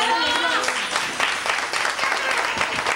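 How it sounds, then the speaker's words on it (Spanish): Applause for the godmother's speech at a family celebration: a crowd claps steadily and fairly loudly for a few seconds while voices talk over it. "Fuerte el aplauso."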